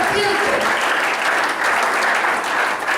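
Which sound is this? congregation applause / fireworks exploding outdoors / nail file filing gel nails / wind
congregation applause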